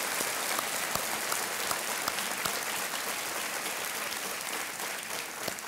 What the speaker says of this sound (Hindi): तालियों के साथ आज हम इनका अभिनंदन करते हैं